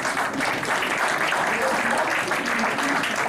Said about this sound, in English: You're applauding him.